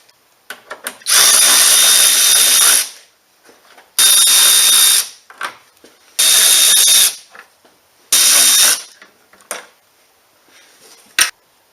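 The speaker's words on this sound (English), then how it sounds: "Now we're going to remove these screws." A power drill backs out the screws on a Ford Fusion front bumper cover in four loud, close, high-pitched whirring bursts of about two seconds each, separated by quiet pauses and small clicks.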